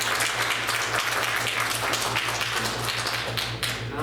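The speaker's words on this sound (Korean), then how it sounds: "옆에 계신 우리 처음 오신 분들 박수하도록 하겠습니다." Church congregation clapping to welcome newcomers during a Sunday service, a steady dense patter of many hands filling the room, with a low hum running underneath.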